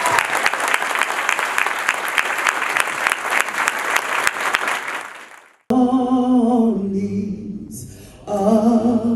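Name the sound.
audience applause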